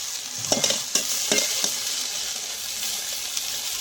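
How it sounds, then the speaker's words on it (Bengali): Potatoes and drumstick leaves fry in a pan with a steady hissing sizzle, with a few scraping stirs near the start before it settles into a continuous close fry; nobody talks. "এইভাবে আমি আলুর সঙ্গে সজনে শাকটা এরকম ভাজতে থাকবো।"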